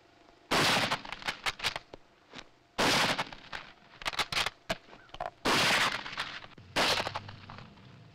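A light machine gun fired in close combat from a battle crouch, three loud bursts of rapid automatic fire at close range, each lasting about a second with echoing shots and short gaps between them.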